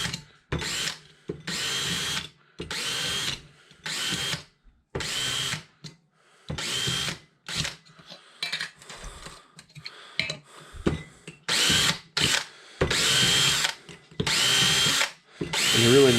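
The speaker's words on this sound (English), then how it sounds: "Get your smallest drill bit you have. Just drill a couple holes." Power drill fitted with a very small bit boring holes at high speed, in short bursts of whirring separated by brief pauses, about a dozen runs in close succession.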